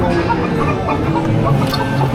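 Chicken clucking inside a Halloween haunt attraction at Cedar Point, a dense run of short clucks over a constant loud noisy background, steady throughout.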